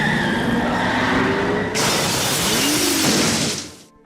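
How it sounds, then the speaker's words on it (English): A 1961 Ferrari 250 GT California from a film scene races in reverse and crashes through a glass garage wall: a loud engine with rising whine, then a sudden bright burst of shattering glass and crunching, fading to silence. "Cameron's rage sends the Ferrari crashing through the glass garage wall"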